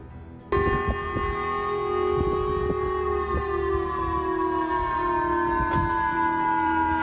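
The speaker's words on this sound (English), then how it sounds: "And you're hearing those sirens." A sustained, droning civil defense warning siren in Japan, sounding after a North Korean ballistic missile launch, holds a steady tone that sags slightly in pitch, with faint clanking and tapping sounds underneath.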